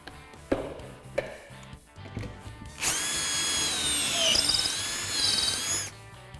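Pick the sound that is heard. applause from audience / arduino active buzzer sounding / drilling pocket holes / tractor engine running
drilling pocket holes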